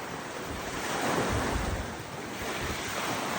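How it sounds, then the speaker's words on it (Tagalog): Strong wind gusts across the open sea, steady roaring noise with crashing surf and heavy buffeting on the microphone, swelling louder midway, with no voices. "Lakas ng hangin"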